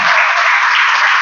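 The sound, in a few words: congregation clapping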